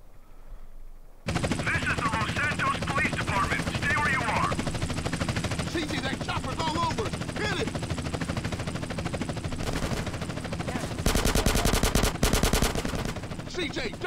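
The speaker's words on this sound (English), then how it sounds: "CJ, jump on that helicopter!" In GTA San Andreas, sustained machine gun fire rattles in rapid bursts over the loud continuous drone of a helicopter, with dense gunfire through the whole stretch and voices shouting over it.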